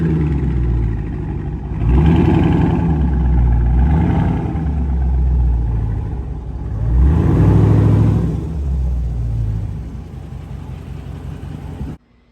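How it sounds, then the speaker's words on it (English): An SRT Scat Pack with its mid mufflers deleted and new rear pipes fitted gives two strong revs over a deep, rumbling idle. The exhaust is loud and close, then cuts off abruptly at the end. "I had deleted the mid mufflers, had some new pipes put on the back,"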